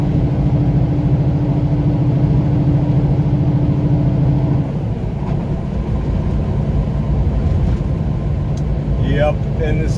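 Truck engine droning steadily while driving, a low tonal hum that drops in pitch midway as it labors, continuous road rumble underneath and brief faint squeaks near the end.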